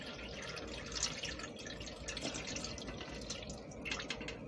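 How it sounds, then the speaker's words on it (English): A cup of water is poured into a container, making a continuous close splashing trickle with small irregular drips and gurgles throughout, no voices over it. "I have another cup of water right here that I'm going to pour."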